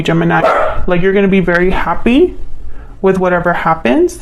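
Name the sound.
dog barking in the background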